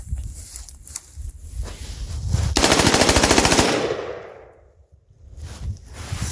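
An M4A1-style AR-15 with an AZR-15 three-position regulator fires a long, rapid, loud burst of evenly spaced shots, preceded by handling clatter and followed by quiet, then shuffling.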